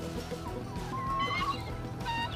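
Chickens cluck in a backyard coop with Brahma hens and roosters, a steady run of close, overlapping clucks and short calls from several birds, with no talking.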